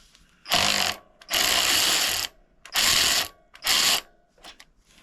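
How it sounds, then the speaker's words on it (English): A 3/8-inch ratchet turns a socket to loosen a bolt on the rear sprocket of a 1984 Honda CT110 trail bike, giving four loud, close bursts of rapid clicking separated by short pauses. "You can put a 3/8 socket on there."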